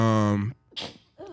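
A single sharp sneeze bursts out loudly and close by, cut off quickly, with a brief pause before people's talk resumes.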